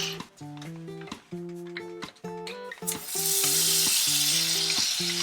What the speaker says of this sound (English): Slowly stir your butter so it does not burn.